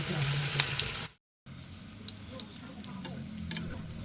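Bottle gourd pakoda batter sizzles and bubbles softly in hot oil, with a brief pause of silence midway and occasional light ticks and clinks of a utensil over the steady frying hiss.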